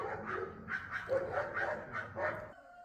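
Several dogs bark in a steady run of loud, close woofs, one after another for a few seconds before stopping abruptly.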